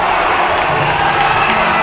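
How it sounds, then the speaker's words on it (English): A dense, loud crowd cheering and shouting at a speedcubing competition, sustained and steady for the whole short stretch. "Crowd is electric."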